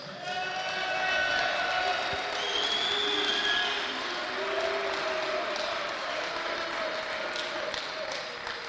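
Audience at a volleyball showcase championship applauding the champion team and finishers, steady sustained clapping and some cheering voices from a crowd in a large hall, fairly distant and even throughout.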